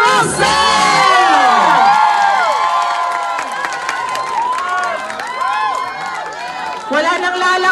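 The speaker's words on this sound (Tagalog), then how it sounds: "Wala nang lalakas pa sa hiyawan!" A loud crowd of Filipino fans in Dubai cheers and shouts excitedly for actor Rafael Rosell, with overlapping high voices and whoops sustained throughout at close range.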